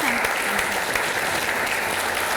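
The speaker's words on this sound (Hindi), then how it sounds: "जोरदार तालियां।" Studio audience at a reality show breaks into brief, vigorous clapping, a dense burst of many hands that fills the short moment with a faint voice at the start.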